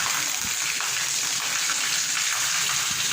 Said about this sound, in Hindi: बारिश होने की वजह से ना ये देखो पानी